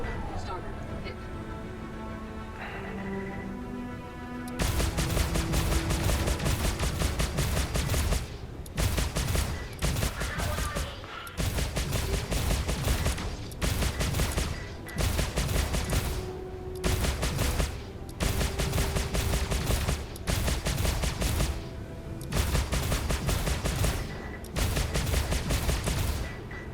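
Spaceship weapons fire and missile hits in the Star Citizen alpha, heavy repeated bursts of loud blasting in long stretches broken by short pauses, with a voice talking over it.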